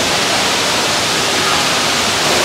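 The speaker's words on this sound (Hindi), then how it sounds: "यहाँ देखो कितना बड़ा पानी का झरना है और कितना बड़ा झूमर लगा हुआ है" A large indoor water fountain in a hotel lobby, a steady, dense rushing splash of falling water that fills the space loudly and evenly, with no voices.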